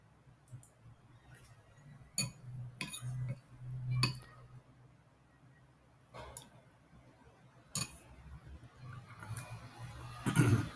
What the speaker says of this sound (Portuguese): Tô comendo uma canja de galinha